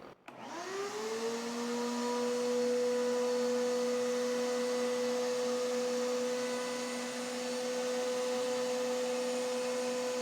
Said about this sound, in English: Let me go ahead and turn it on and suck it up.